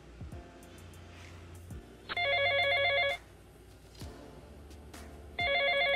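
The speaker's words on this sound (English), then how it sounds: "Oh, I guess that's my phone." A telephone bell rings in two loud, bright bursts about three seconds apart, with quieter thumps and background noise between the rings.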